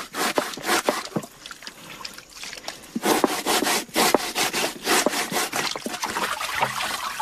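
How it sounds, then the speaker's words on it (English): A blade scrapes the tough outer skin off manioc root during traditional bread making in the Amazon rainforest, producing rapid rasping strokes in an irregular, busy rhythm, close and fairly loud. "The first stage of bread making is to scrape the tough outer skin of the manioc"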